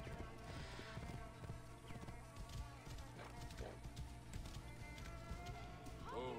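Horse hooves clip-clop in the video game Assassin's Creed Origins, a steady trotting rhythm set quietly in a busy game soundscape with background sounds and a brief whinny near the end.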